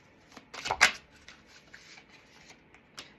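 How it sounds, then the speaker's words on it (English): Tarot cards shuffled by hand, a brief burst of quick riffling flutters with a sharper snap near the middle, followed by softer scattered card rubs, close and alone. "Shuffling for my Leos."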